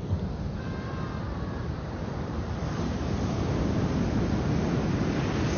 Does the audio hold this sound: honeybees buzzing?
no